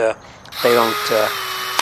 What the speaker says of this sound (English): now we're going to drill through everything into that piece of scrap 4x4 that we have in the back